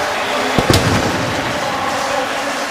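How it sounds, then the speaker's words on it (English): A stadium cannon fires after a Tampa Bay Buccaneers touchdown during a 2016 preseason game against the Cleveland Browns, a short sharp boom over loud, continuous crowd roar. "as you listen to the cannon go off"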